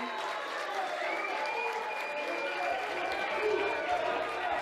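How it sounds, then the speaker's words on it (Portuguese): An audience at a televised Rio de Janeiro mayoral candidates' debate applauds, a fairly soft, continuous patter of clapping with crowd noise and a voice faintly present underneath throughout. "um grande aplauso"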